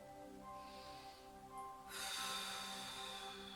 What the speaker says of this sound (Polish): I teraz mocno oddychamy trzy razy.